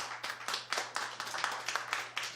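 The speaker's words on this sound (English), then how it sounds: "if you could please refrain from clapping so people can come up and speak" A city council meeting audience claps in a quick, uneven run of about a dozen sharp slaps from a small crowd, fairly quiet and heard over a faint steady room hum.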